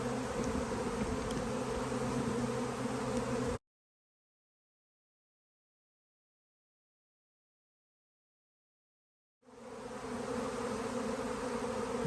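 A honey bee swarm drones as it lands, a steady, dense buzzing close by, cutting out abruptly to silence for several seconds before the same buzzing returns.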